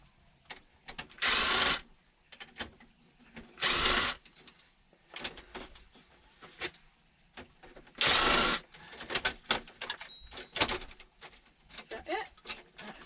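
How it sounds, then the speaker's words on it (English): Short bursts of a power driver spinning out Torx screws from a large piece of aluminium equipment, three or four loud whirring bursts separated by pauses filled with clicks, handling noises and quiet speech. "Let me just get this off. This is all torque screws as well."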